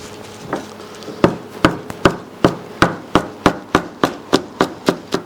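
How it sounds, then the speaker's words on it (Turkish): A knife chopping a handful of fresh mint on a board in a kitchen, preparing stuffed mullet: about a dozen crisp, evenly spaced knocks, close and loud, with no talking. "Şöyle bir tutam da nane doğrayacağız"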